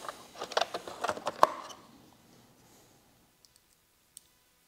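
Plastic vent being snapped back into a Harley-Davidson Electra Glide fairing, a quick burst of light clicks and taps, close and quiet, followed by a few isolated ticks.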